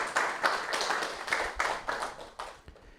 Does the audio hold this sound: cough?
no